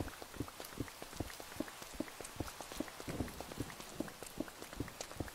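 Rain falls steadily in a modded video game, a dense patter of small droplets striking surfaces with irregular close taps over a soft continuous hiss, no voices.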